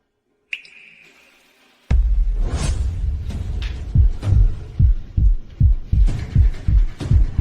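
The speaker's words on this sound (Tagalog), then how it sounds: "Mabilis ang tibok ng puso ko." A fast heartbeat sound effect begins after a brief ringing tone and a pause, then pulses in a quick, steady double-thump rhythm that grows louder and denser toward the end.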